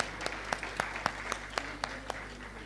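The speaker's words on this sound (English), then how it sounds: "A round of applause, please, for the panelists." A conference audience claps for the panelists at a trade forum, a moderate, scattered patter of hands with a few sharper individual claps standing out.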